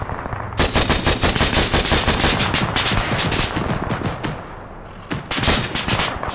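Rapid automatic gunfire in ArmA 3 rattles in long, dense bursts close by and loud, with a brief lull near the end before the shooting picks up again.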